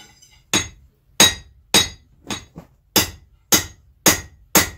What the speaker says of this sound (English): Okay, we're gonna try beveling the blade.